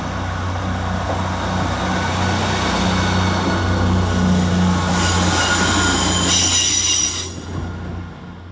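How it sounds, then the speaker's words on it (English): A Class 158 Northern diesel unit pulls out of Halifax station, its rumbling engine and rolling wheels holding steady and loud, then a brief burst of wheel squeal before the sound fades as it moves away. "Next out to depart is 158786 with the 1457 Northern service from Huddersfield to Bradford Interchange."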